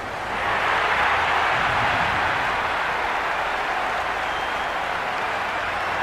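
A loud, continuous roar from a cricket crowd at the ground during a tense T20 World Cup final between India and New Zealand, swelling early and then holding steady as broad, dense noise with no clear speech.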